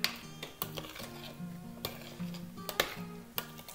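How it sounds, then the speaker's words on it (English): A spoon clinks and scrapes against a pot while Polish sour rye soup is stirred, with irregular sharp metallic taps and rattles over several seconds, close by and with no voices. "give it a stir"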